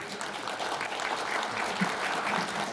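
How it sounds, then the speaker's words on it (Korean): Audience applause welcoming a presenter at a Seoul city policy forum on semi-industrial zones, a steady dense wash of clapping from a full room lasting throughout. "김학선 팀장님 큰 박수로 맞아주시기 바랍니다."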